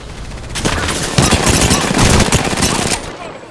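Rapid automatic gunfire in the Apex Legends video game, aimed at the player, comes in loud, dense bursts of sharp shots close by that run for about two seconds before cutting off.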